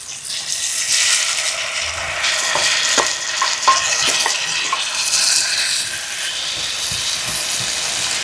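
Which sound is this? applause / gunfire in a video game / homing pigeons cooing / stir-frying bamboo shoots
stir-frying bamboo shoots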